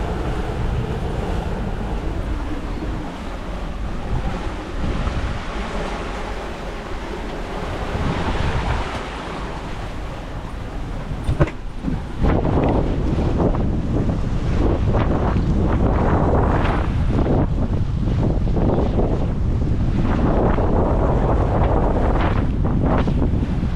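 Strong wind buffets the microphone while waves rush and slosh steadily around a sailboat on an offshore passage in the tropics, loud and continuous for the whole stretch, with no voices.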